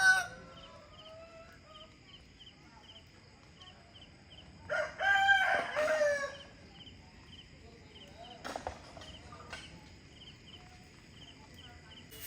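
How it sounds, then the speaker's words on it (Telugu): Roosters crow in the early morning of a Bhogi festival day, heard from a rooftop: several drawn-out cock-a-doodle-doos at moderate distance, with faint clucks, insects and brief background voices. "ఎర్లీ మార్నింగ్ ఆ కోడివి సాంగ్స్"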